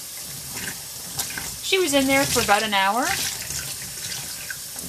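Cold water runs from a tap in a steady stream while a Cabbage Patch Kid doll is rinsed, continuing beneath someone talking nearby.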